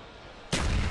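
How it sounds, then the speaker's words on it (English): A grenade blast in a Call of Duty: Black Ops match at a competitive tournament hits abruptly halfway through, a loud broadband boom that stays roaring to the end after a quieter game-noise lead-in. "that nade just sounded like it barely missed the feet of Twiz"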